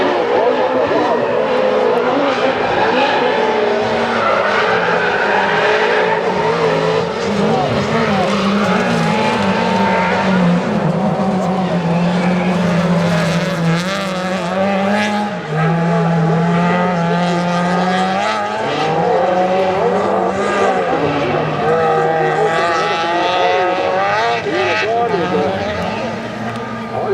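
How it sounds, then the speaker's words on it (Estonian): Rallycross race cars, a Peugeot among them, roar continuously at close range with engines revving and shifting pitch and tires squealing, while a commentator talks steadily over the racing noise. "Baumanise tiimi autoga siis siin Peugeot'ga seda kõrget kohta veedmas."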